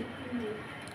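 A pigeon gives a single soft coo at a pigeon farm among oversized birds, brief and faint against a murmuring background with voices nearby.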